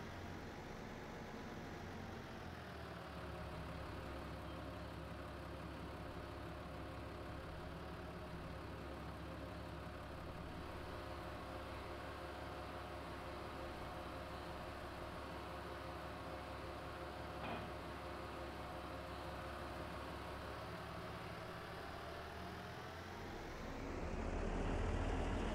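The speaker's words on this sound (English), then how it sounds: "All I gotta do is hit the gas on this one." Tractor engine in Farming Simulator 22 driving under throttle, a steady low droning rumble that holds level for most of the stretch before swelling louder near the end, with no talking.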